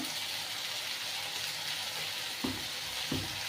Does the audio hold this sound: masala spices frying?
yes